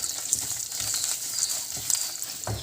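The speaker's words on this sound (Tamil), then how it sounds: "இப்போ கொஞ்சோண்டு கடலைப்பருப்பும் உளுந்தம்பருப்பும் போட்டுடலாம். போட்டு நல்லாவே வறுத்து எடுத்துக்கோங்க" Chana dal and urad dal frying in a pan, a soft steady sizzle with faint crackles and a few louder pops, close and continuous with no talking.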